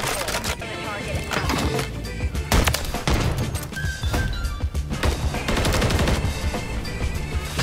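Rapid automatic gunfire from a shooter video game involving snipers, in dense, loud bursts that run almost continuously, with heavy low-end impacts and scattered sharper cracks.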